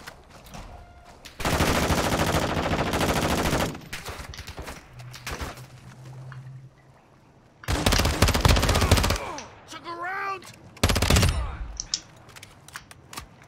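Bursts of gunfire in the video game DMZ come in separated volleys, loud close automatic strings with quieter gaps and distant shots between them.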